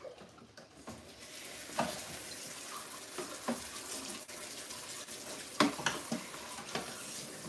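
Apples being rinsed under running tap water in a kitchen sink, a steady wash of flowing water with occasional knocks and splashes as the fruit is handled, close by with no talk.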